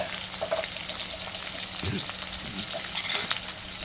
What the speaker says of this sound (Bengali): পেঁয়াজটাকে একটুখানি ভেজে নেবো